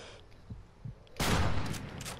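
Suppressing gunfire in Call of Duty: Ghosts erupts as a dense, loud burst of rapid shots after a few quiet thumps, then trails off in echoing reports.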